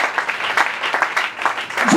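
A church congregation applauds during a Sunday service, with steady, dense clapping from many hands and faint voices mixed in.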